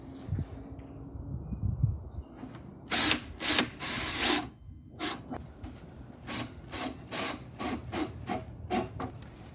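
A power drill whirs in short bursts, driving a sheet metal screw with gritty grinding and scraping between pauses, close and fairly quiet.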